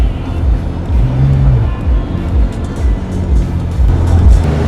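A Pagani sports car pulls away with a loud, rumbling engine, deep pulsing exhaust tones swelling and falling as it drives off nearby, with no talking over it.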